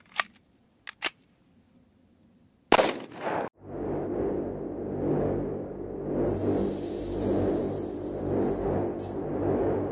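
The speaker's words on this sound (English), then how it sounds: "let's say this was in a laptop bag and you shot through a laptop" A gunshot fired through a laptop into a NIJ Level IIIA ballistic armor board, a sharp loud crack followed by a long rumbling echo and ringing tail, preceded by a few quick clicks.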